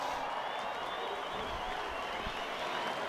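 Crowd applause and cheering at a 2011 rugby match between the All Blacks and Fiji as the Fiji team acknowledges the stands, a steady broad wash of clapping that holds evenly throughout.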